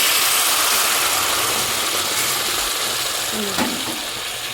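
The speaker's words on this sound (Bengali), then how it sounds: "এবার দিয়ে দেবো পরিমাণ মতো জল, আর জলটা গরম জল দিচ্ছি" Hot water goes into a pan of frying spiced curry, setting off a loud, steady sizzle and hiss that fades slightly toward the end.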